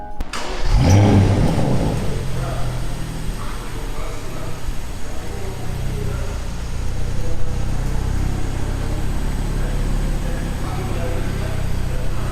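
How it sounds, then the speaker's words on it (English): A 2017 Porsche Panamera 4S V6 cranks and fires with a loud bark, then settles into a steady, close, throaty idle with slight rev swells, the exhaust note droning continuously. "The exhaust note is magnificent for a V6 engine."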